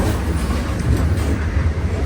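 Steady low rumble of a large passenger train running in China, heard from on board, a continuous loud drone with faint rhythmic rail texture and no talk.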